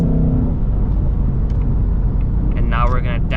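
A 2024 Ford Mustang engine hums in 6th gear after a paddle-shift upshift. Its low, steady rumble runs throughout, and someone talks briefly over it near the end.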